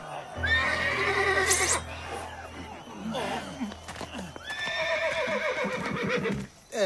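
A horse whinnies loudly twice, shrill and wavering, with hoof clatter and scattered voices in between.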